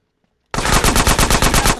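SMG gunfire in the video game GTA San Andreas, a sudden loud rapid burst of automatic shots in a steady fast rhythm after a moment of silence.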